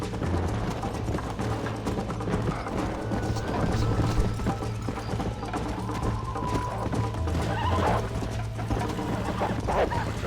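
Horse galloping in the Red Dead Redemption video game, a fast busy clatter of hooves mixed with rattling, mechanical-sounding game noise, loud and continuous without a clear neigh.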